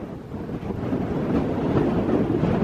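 Strong wind blows on a mountain trail in Acadia National Park, Maine, a loud, continuous low rumble of gusts buffeting the microphone that builds slightly and never lets up, with no talking heard.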